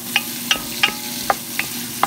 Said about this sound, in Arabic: البصل قليناها شوية